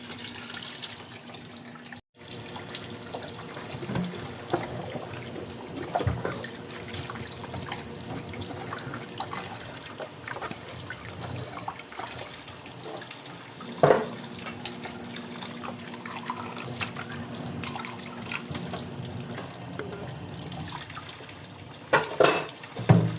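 A tap runs water into a basin for washing, a steady moderate trickle and splash lasting throughout with occasional clinks and knocks nearby.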